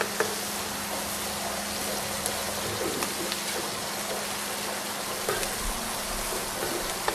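Seafood shells sear in a hot paella pan, giving a steady, close sizzle and crackle of frying that runs unbroken the whole time with no talk.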